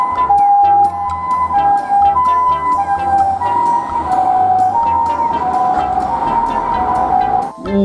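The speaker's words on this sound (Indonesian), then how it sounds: "Di sini ada mobil ambulan guys" A loud toy ambulance siren wails in alternating electronic tones, looping nearly nonstop with a faint tinny jingle underneath.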